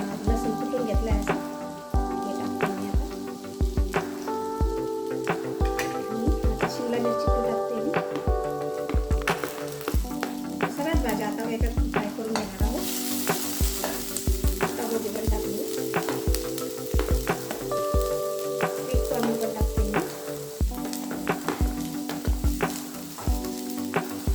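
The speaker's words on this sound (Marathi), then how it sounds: "मी काय करते थोडंसं तूप गरम होऊन देते आणि या सगळ्या भाज्या फ्राय करायला टाकते" Onion, ginger, garlic and mixed vegetables frying in hot ghee for a soup, a steady bright sizzle running throughout, with music and a voice talking over the cooking.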